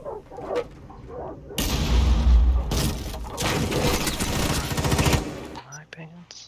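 Rapid automatic gunfire from a hard-recoiling gun in a first-person shooter game, loud dense bursts lasting several seconds before cutting off, with quieter game sounds around it.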